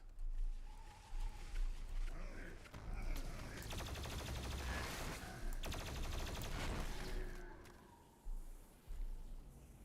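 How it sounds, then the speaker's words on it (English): Rapid plasma rifle fire from the shooter game Doom Eternal chatters in sustained bursts, broken by booming explosions and heavy combat noise, loud and up front. "Plasma rifle can quickly destroy energy shields,"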